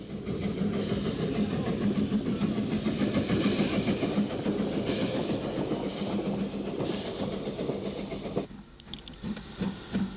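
A GNR VS class steam locomotive running a train at Dundalk, a continuous rumbling roll of wheels and carriages with rhythmic rail clatter, steady and fairly loud before easing near the end.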